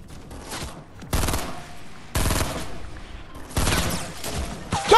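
Rapid automatic gunfire from a video game comes in three loud, sustained bursts separated by short quieter gaps, close and harsh, with no voices over it.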